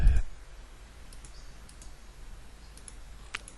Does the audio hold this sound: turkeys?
no